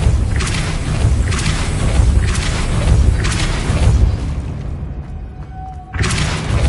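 A Depulso force spell striking in a Hogwarts video game, heard as a series of loud, heavy booming thuds roughly a second apart, a short lull, then one sudden forceful impact.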